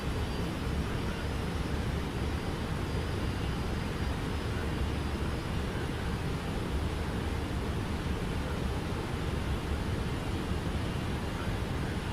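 Steady broadband engine and airflow roar inside a KLM Boeing 777-300ER flying a slow circuit with flaps 15 near 190 knots, simulated in X-Plane 12; constant, unbroken and fairly loud, with no voices.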